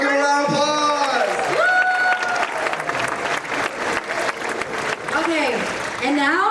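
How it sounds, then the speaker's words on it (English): A comedy show audience applauds a prize winner, with dense clapping and crowd noise throughout, a few shouts and cheers mixed in, and voices talking over the clapping. "Everyone give a round of applause."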